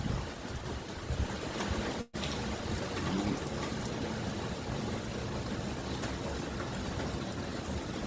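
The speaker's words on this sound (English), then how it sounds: "Massive amount of rain now." Heavy rain and gusting wind from Hurricane Beryl in Jamaica roar as a constant broadband wash, loud and close, briefly cut out by a momentary dropout early on.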